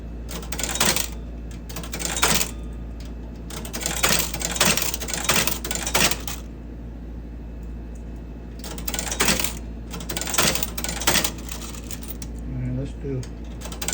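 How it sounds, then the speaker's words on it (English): Coins are dropped one after another into a 1960 ACME Rollette coin machine, giving bursts of metallic clinking and rattling separated by short pauses, close and loud. "I'm going to come over here and drop a bunch of coins on the even side."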